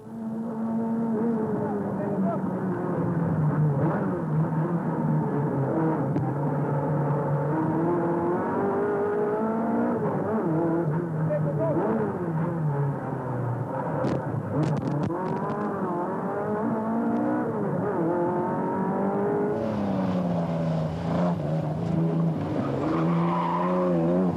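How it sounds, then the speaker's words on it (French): A 1971 CG Simca 1200S rally car runs at steady engine pitch, rising and falling through gear changes with brief tire noise, close and loud throughout while a voice talks over it. "nous embarquons à bord de la CG Simca 1200S de 1971"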